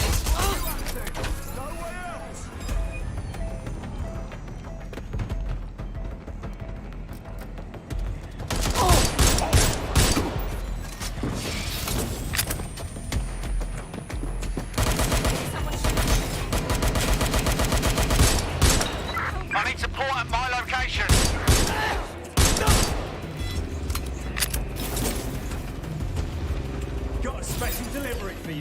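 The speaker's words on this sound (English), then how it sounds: "It's like gunfire." Bursts of gunfire in the video game Watch Dogs Legion, with dense volleys of rapid shots between roughly 9 and 28 seconds over a steady background of game noise and a voice.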